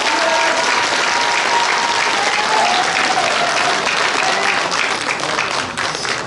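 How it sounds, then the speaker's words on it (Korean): Loud, sustained applause from a lecture audience for Professor Seo Gyun-yeol, dense clapping continuing throughout before tapering off at the end. "다시 한번 박수 부탁드립니다"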